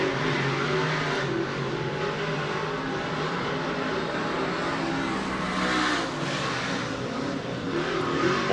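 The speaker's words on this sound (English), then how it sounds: "And the QXO, car number 20 of Rick Laubach out there on the speedway now" Dirt track race cars run on the Volusia Speedway Park oval during the DIRTcar Nationals, their engines a loud, steady roar that holds for the whole stretch, with slight swells as cars pass.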